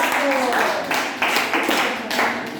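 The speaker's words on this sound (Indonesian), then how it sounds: "Oke, tepuk tangan dulu untuk kelompok 1." Classroom applause for a student group after their presentation: a few scattered claps ring out in loose bursts amid murmuring students, close and moderately loud.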